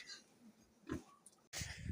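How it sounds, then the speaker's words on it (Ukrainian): Pigs on a farm give faint, short grunts and snuffles close by, with a brief break before a louder burst at the end. "От наші свинтуси."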